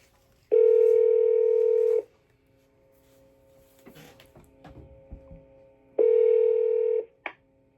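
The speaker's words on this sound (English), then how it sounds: "let me see if I can get Mr. Yates on the phone here" A landline telephone gives two long steady dial-tone bursts with a short run of dialing clicks and handling noise between them, close and clear with no talking.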